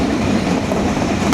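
The Mohananda local train runs between Khulna and Chuadanga in Bangladesh as it approaches Sundarpur station. A loud, close, continuous rumble of wheels and carriage fills the space, with a faint clickety-clack underneath.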